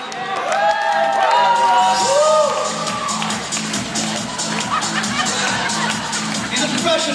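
Wedding guests cheer and whoop loudly together, a dense burst of crowd shouts at the start easing into steady chatter and scattered calls, with people talking throughout.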